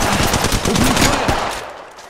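Automatic weapon fire in the video game Apex Legends: a loud, rapid burst of close shots lasting over a second, then fading out.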